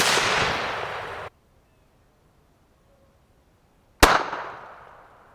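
FN PS90 firing 5.7x28 rounds into body armor: two loud, sharp gunshots a few seconds apart, each with a long decaying echo and silence between them.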